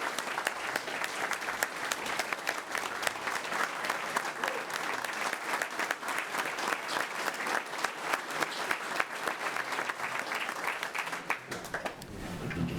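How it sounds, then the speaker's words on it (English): A county commission meeting audience gives retirees a sustained round of applause, dense, even clapping from many hands that continues steadily to the end. "if you don't mind, a round of applause"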